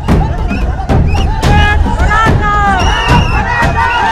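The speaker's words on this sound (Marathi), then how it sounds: "मैदानावर भव्य सभा, सभेला लाखोंची गर्दी" A huge crowd at a protest rally in Mumbai, with loud continuous cheering and rhythmic chanting, dense and close, with thumping beats and shouts throughout.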